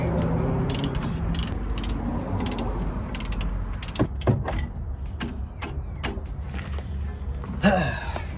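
Ratchet of a torque wrench clicking rapidly in a steady run while a truck bolt is tightened, close and loud, then slowing into separate sharp clicks and pulls near the end.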